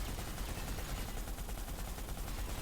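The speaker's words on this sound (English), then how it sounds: "pop into one of the guns, start firing" Rapid, continuous automatic fire from dual anti-aircraft guns aboard a warship in a naval video game, a dense and steady rattle of overlapping shots that runs for the whole stretch with no talking.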